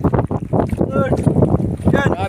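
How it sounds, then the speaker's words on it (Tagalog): Strong wind blowing over a small fishing boat at sea, a steady gusty rush under almost continuous excited talk and shouting from people aboard. "Malakas ang hangin."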